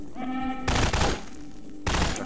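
Bursts of SMG fire in a Garry's Mod match, two loud rapid volleys separated by a short pause, with game noise underneath.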